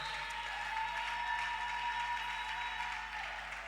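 A church congregation applauds and cheers, a dense continuous wash of clapping that holds steady for a few seconds and then eases slightly.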